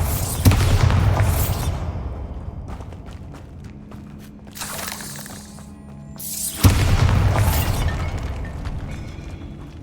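In Hogwarts Legacy, a Bombarda blasting spell goes off with a loud, close explosive boom and crumbling debris. A quieter rumbling stretch follows, then a second heavy blast with rubble tails off.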